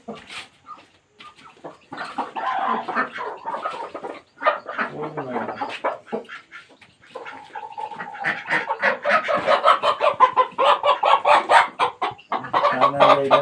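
Chickens clucking and calling nearby, with uneven bursts that grow busier and louder toward the end, while people talk intermittently underneath.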